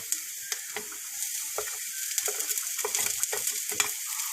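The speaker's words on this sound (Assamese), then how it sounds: "বন্ধাকবিখিনি আকৌ অলপ ধুনীয়াকৈ মিহলাই সিজিবলৈ দিম" Cabbage and onions frying in a pan for a Spanish omelette filling, a steady close sizzle with light scraping stir clicks scattered throughout, no talking.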